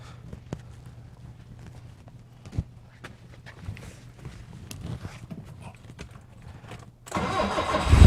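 A 1972 BMW 2002 under repair for a start-and-run fault cranks with quiet clicks and knocks, then its engine catches near the end and roars loudly close by.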